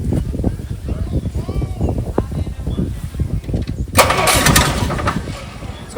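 A small two-cylinder engine on a stand cranks and then catches, settling into a fast, loud chugging rumble close by.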